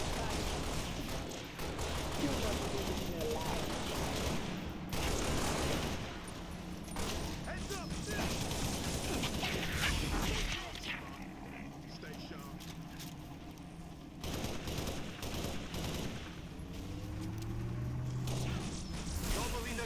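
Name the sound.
gunfire in the video game Halo: Reach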